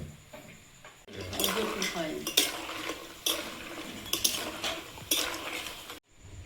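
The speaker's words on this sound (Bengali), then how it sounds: "ভাঁজ দিতে দিতে এগুলো ভাজা হয়ে গেছে" Sweets are stirred and fried in a pan in a home kitchen, a metal utensil scraping and clinking against the pan in repeated strokes over a soft sizzle.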